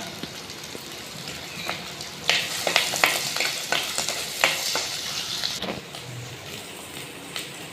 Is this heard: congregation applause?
no